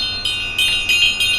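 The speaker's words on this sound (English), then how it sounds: "I'm going to ring my bell" A small angel bell rings in four bright strikes spaced about a third of a second apart, each with a shimmering high tone that sustains between strikes. The strikes are clear and close with no talk.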